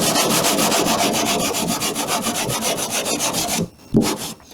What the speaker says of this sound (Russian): Ну и начинаем шлифовать. Шлифуем не так, а вот плоскость вот так выводим.